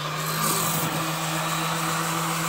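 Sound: power tool working on wood

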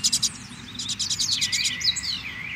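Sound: pardinho bird singing

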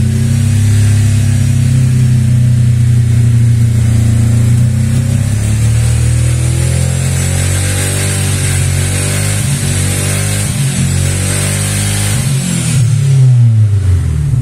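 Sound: weak car engine running rough, burning oil

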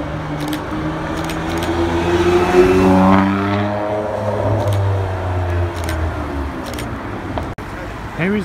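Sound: supercar engine sound

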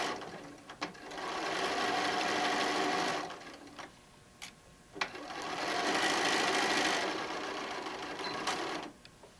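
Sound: sewing machine stitching a 1 inch seam on a bag

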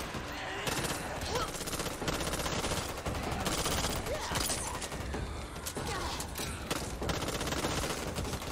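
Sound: gunfire from the video game Back 4 Blood

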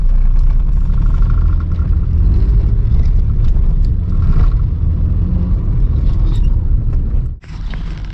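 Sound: Suzuki Mehran car driving off

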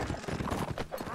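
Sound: horse hooves clip-clopping in a video game

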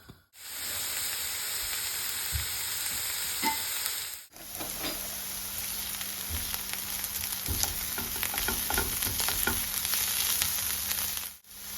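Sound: onion and carrot frying in sunflower oil in a pan

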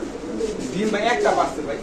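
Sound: Lahori pigeon cooing

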